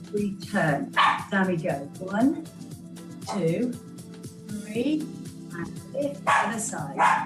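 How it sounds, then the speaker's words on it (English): A household dog barks and yips in short bursts in the background while an instructor counts and gives exercise cues during an online abs, arms and stretch class, the barks partly masked by the steady talk. "sorry about the dog"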